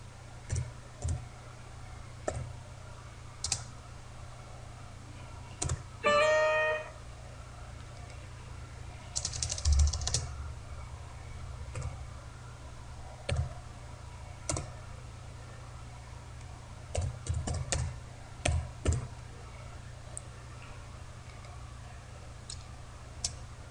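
Sparse keystrokes on a computer keyboard as short text is typed, heard as scattered light clicks at irregular intervals against a quiet background, with one brief chirping sound partway through and no speech.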